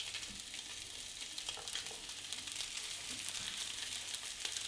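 Salmon fillets frying in butter in a pan over low to medium heat give a steady, soft, even sizzle with faint crackles throughout, close by and alone.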